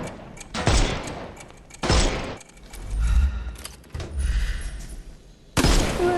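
Gunfire in the Sherlock Holmes Chapter One video game, several loud, sharp bursts of shots spaced a second or two apart, with low rumbling thuds between them.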